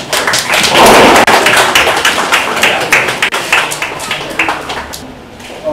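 Audience applause at a film promotion event for 'Ishqedarriyaan', dense, loud clapping with many sharp hand strikes that carries steadily throughout and thins slightly toward the end.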